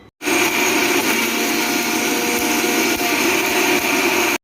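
Electric mixer grinder whirring steadily as it grinds whole pepper, cumin and fennel, a loud continuous motor roar starting abruptly and stopping after about four seconds, with no talk.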